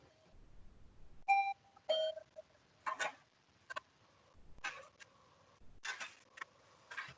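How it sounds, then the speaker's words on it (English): A home doorbell rings twice in quick succession, bright chiming tones up close, followed by scattered clicks and knocks of someone moving about as the door is opened. "open the door for my daughter who's just ringing the bell"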